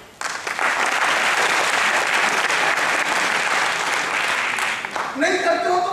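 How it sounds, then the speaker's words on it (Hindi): Loud applause from a meeting audience starts abruptly and holds as dense, steady clapping for several seconds, then fades out as a voice begins speaking over the tail. "तालियां"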